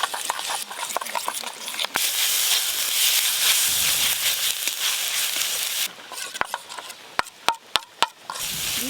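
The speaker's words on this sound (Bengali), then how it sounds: "আদা রসুন পেঁয়াজ ভালো করে ভাজা হয়ে গেল" Ginger, garlic and onion frying in a pan, a dense close hiss and sizzle that holds steady, then thins out and gives way to a few sharp clinks of a utensil against the pan.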